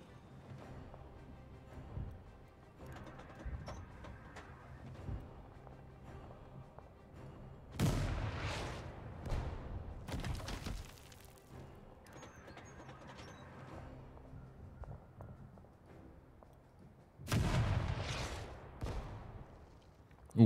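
Artillery fire in the tank strategy game Total Tank Generals, set in the Battle of Stalingrad: two loud booming volleys stand out from a quieter rumbling battle background, each burst rolling on for a second or two.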